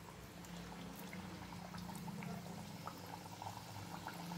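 Jaggery kapnya, crisp Maharashtrian sweet dough pieces, frying in hot oil with a steady close bubbling sizzle and a low hum underneath, no talk.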